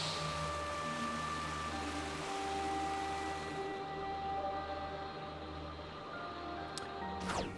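Monorail train in Ys X: Nordics, a continuous humming drone with steady tonal whine and a low rumble, fading slightly midway before a brief higher swish at the end, no talk.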